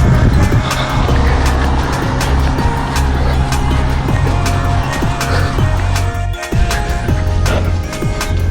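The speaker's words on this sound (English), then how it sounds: "So you've got all these cars coming." Traffic on a rural road through dairy farmland, with a steady, loud road rumble as vehicles pass close by one after another, and faint footsteps of a barefoot runner mixed in.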